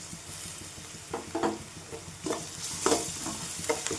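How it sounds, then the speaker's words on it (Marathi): Garlic frying in oil in a pan while being stirred for a drumstick (shevga) vegetable dish, a steady close sizzle with repeated scraping stirs, no talking. "याच्यामध्ये छान परतून घेऊया."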